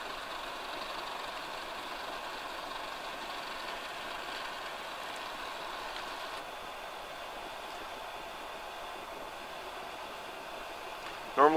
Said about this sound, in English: Right now the pellet auger's on, and you can see it pushing pellets.